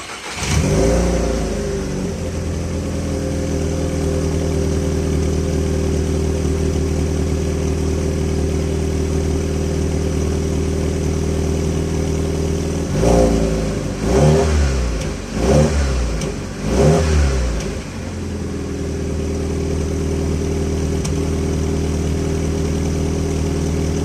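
A VW Jetta Mk5 with no catalytic converter idles loudly and steadily, then blips the throttle in three or four sharp revs near the end before settling back to a rumbling idle.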